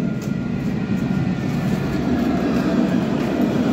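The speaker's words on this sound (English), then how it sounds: "So we also now have 2 trams here coming in." Two trams pulling into a Nottingham stop make a steady, loud rumble and rail hum with a faint high whine, continuous and fairly close.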